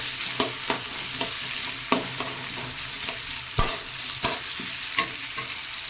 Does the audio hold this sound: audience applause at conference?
no